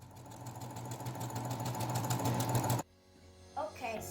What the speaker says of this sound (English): We are done sewing the seams.